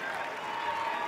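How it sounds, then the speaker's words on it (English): Brief burst of crowd applause in a high school basketball gym as both schools clap for the seniors, a dense wash of clapping lasting about a second. "we'll let both schools give a big applause to"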